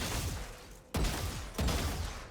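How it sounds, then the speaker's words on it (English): Gunshots fired automatically by a trigger bot cheat in Valorant, two sharp loud shots about half a second apart over a continuous game background, no talking. "So if I go over the head of the player, it will shoot right there, as you can see."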